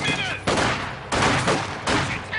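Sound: machine gun fire in Company of Heroes 2 video game

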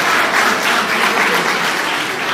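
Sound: students applauding

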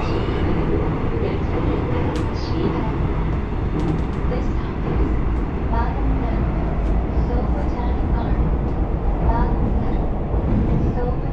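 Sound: train running

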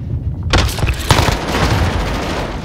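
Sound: rapid gunfire in a shooter video game

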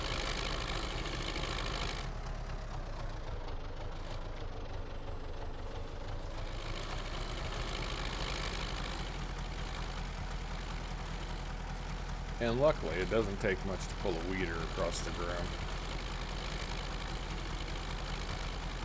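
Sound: small tractor engine pulling a weeder, from video game Farming Simulator 19

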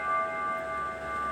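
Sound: bell ringing

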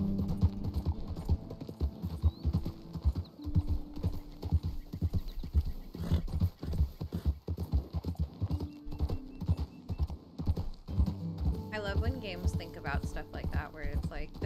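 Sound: horse hooves running through water, Red Dead Redemption 2 video game

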